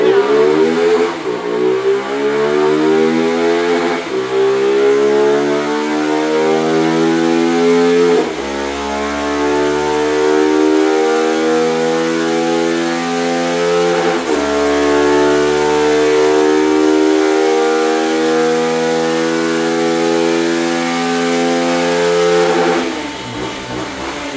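A Honda CB 300 motorcycle fitted with an upgraded cam and remap revs hard from first through fourth gear, its loud, close engine note climbing steadily and then dropping back at each shift before cutting off at the end.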